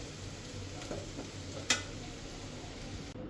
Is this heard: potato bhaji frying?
yes